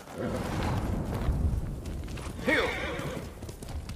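Horse in the Ghost of Tsushima video game gives a loud, close whinny around the middle, set over a steady bed of game ambience and low rumble.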